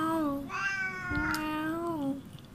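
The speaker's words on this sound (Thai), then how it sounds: "แมว" A cat meows in a long drawn-out call with rising and falling pitch, close and clear, sitting in the sun outdoors in Pattaya.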